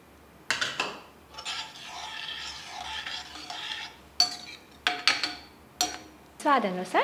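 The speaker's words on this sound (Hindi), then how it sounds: "हमने जो फेंट के दही रखा था उसे इसमें डाल लेंगे" Whisked yogurt stirred into fried masala in a pan for a yogurt vegetable curry, a spoon scraping and clinking against the pan in bursts with a steady wet stirring, close and fairly loud.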